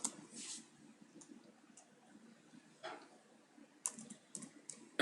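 Computer keyboard typing while HTML code is written, sparse quiet clusters of keystrokes with pauses between them, faint and close, with no voice.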